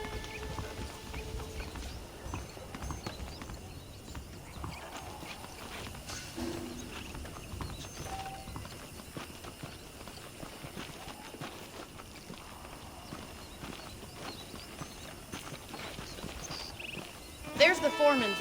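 Horse hooves clip-clopping in a steady walking rhythm in Red Dead Redemption, fairly close, running under game ambience and talking voices, with a louder burst of activity at the end.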